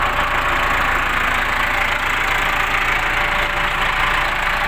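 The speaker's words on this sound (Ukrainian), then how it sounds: "Бачите, він на холостих." A Case 695 tractor engine, just fitted with a replacement hydraulic pump, idles steadily and loudly up close for the whole stretch, with a continuous low rumble and no talking.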